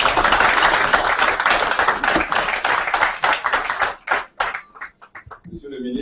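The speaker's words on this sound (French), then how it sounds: "avec vos applaudissements dus à son rang" An audience at a formal partnership signing ceremony clapping for an agriculture minister, a loud dense burst of applause that thins into scattered claps and dies out, with talk mixed in.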